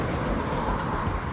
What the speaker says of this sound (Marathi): गाड्याचा तुम्हाला आवाज येत असेल.